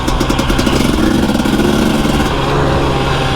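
A cold motorcycle engine running while being ridden along a green lane in the Elan Valley, a steady throbbing drone with a slight rise and fall in pitch, close and loud, no voices.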